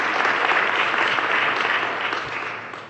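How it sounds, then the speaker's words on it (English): Audience applause at a health innovation talk, a dense, continuous clapping that fills the room at close range and slowly fades toward the end. "So you should get the applause."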